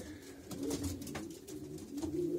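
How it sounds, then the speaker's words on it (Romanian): Pigeons coo softly in a breeding loft, with low repeated cooing close by and faint rustling in between. "Mi-a făcut plăcere să vă prezint acești porumbei"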